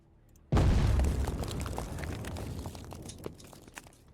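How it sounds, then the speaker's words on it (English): A sudden loud blast bursts open the front door of a throne room, a deep boom that hits at once and then trails into crackling, clattering debris fading over several seconds, with no voices. "an explosion happens at the front door to the throne room"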